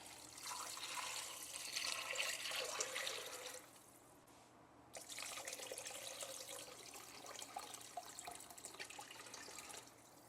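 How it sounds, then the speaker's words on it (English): Tap water pours into a pot of washed pinto beans, a faint steady rushing stream that pauses briefly midway, then resumes and runs on. "And we're just going to fill this up with some water."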